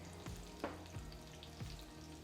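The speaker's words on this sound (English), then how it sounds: "So you're kind of deep frying it in that nice" A quiet, steady sizzle of liver nuggets deep frying in bison tallow, with a few soft bubbling pops and occasional light clinks.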